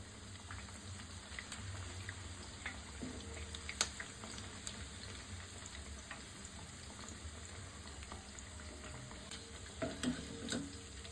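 Fish pieces crisp-frying in hot oil make a soft, steady sizzle and bubble that carries on without a break, faint and even, with a few brief clinks near the end.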